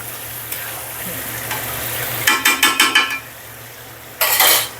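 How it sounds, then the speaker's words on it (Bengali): Taro pieces sauté in a pan under a soft continuous sizzle, then a quick run of five rhythmic spatula scrapes against the metal, followed by a longer scraping stir near the end; close, without talk. "কচুগুলোকে একটু কষিয়ে নিব"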